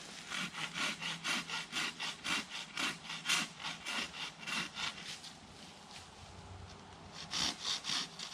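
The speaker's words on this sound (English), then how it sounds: "Do you mind if I continue sawing some wood?" Steady back-and-forth sawing through wood at a campsite, a rhythmic rasping stroke about twice a second, close by, briefly pausing before resuming.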